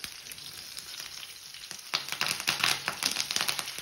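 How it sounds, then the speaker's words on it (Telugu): Chana dal, dried red chilies, chopped green chilies and curry leaves fry in hot oil, a quiet sizzle that bursts into louder crackling and spitting halfway through, close by with no talk. "ఒక 2 రెమ్మలు కరివేపాకు వేసుకొని వేయించుకోవాలి"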